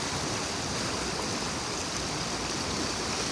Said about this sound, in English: the water's running really nice.